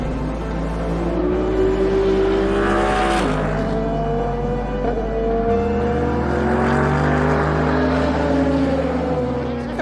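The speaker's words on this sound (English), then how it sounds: "let's check out the atmosphere in the paddock" Racing cars in the paddock at Le Castellet, with engines revving and droning close by as pitch rises and falls, one car sweeping past in a loud surge amid steady background noise.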